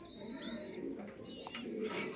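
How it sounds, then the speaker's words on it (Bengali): Racing pigeons coo softly in a breeding loft, with low, murmuring calls and a few brief chirps in the background. "এটা আমার ব্রিডিং লফট, এখানে আমার অনেক পছন্দের কবুতর আছে"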